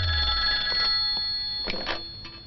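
A telephone rings in a scene from a dubbed comedy film, with steady electronic ringing tones that continue across the short stretch, fairly clear over a quiet background, and no voices.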